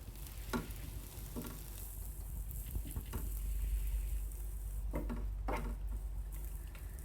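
Finely chopped onions frying in a pan for iftar dishes, a soft low sizzle with several sharp clicks and clacks of utensils against the pan.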